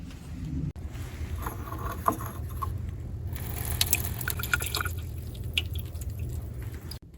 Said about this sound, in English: Then we're going to add some hot distilled water to it to wash off the copper.